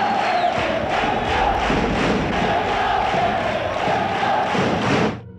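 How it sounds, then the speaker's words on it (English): A sellout crowd in a college men's basketball arena cheers loudly and continuously, a dense roar of many voices that holds steady for about five seconds and then drops off abruptly. "From a crowd which is approximating a complete and total sellout"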